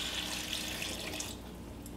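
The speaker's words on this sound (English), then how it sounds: "and then we'll add water" Water poured into a cooking pot for vegetarian carrot soup makes a soft, steady rushing stream for just over a second before thinning out. It is faint, with no talking.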